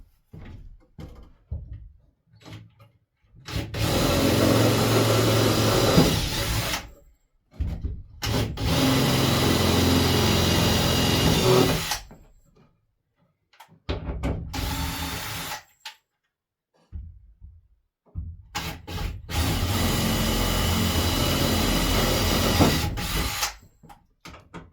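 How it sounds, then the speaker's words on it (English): A power drill bores holes around a window frame in a remote cabin under construction in the woods. It comes in four loud, grinding bursts of several seconds each, separated by short pauses with small knocks and handling noises. "Might have needed a sharper drill, but it is going through."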